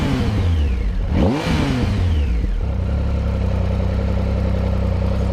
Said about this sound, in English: So a lovely exhaust note.